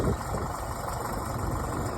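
A UMZ-6 tractor engine idling steadily nearby in a field in winter, a low continuous rumble with no talking.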